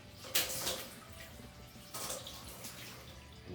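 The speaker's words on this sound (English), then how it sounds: "And you can see how the water just sheets right off" Water sprays onto treated shower glass, a soft splashing hiss with two brief louder surges, faint and close.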